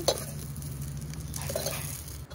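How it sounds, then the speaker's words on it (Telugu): Ingredients for a raw mango chutney fry in hot oil with a close, steady sizzle, broken by a few light clinks of stirring against the pan. "ఆయిల్ వేసి ఫ్రై చేసుకోవాలండి."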